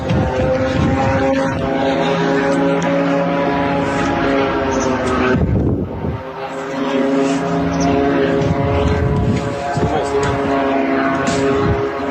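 A Shahed attack drone drones steadily overhead with a loud propeller buzz. The engine tone holds steady, briefly dips near the middle, then returns, and runs continuously for the full length.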